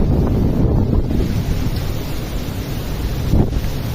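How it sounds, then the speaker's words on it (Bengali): Strong gusting wind from Cyclone Remal beside the Karnaphuli river in Chattogram, loud and continuous roaring buffeting against the microphone, with surging water beneath and no talk. "প্রচণ্ড বাতাস"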